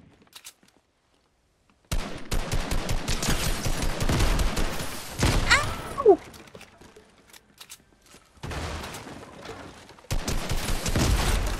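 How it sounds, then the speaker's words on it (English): Sniper rifle shots in the Fortnite video game at Salty Springs, sharp cracks mixed into a dense run of gunfire bursts with a brief quiet gap between volleys. "That's a sniper."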